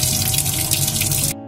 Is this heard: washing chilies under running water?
yes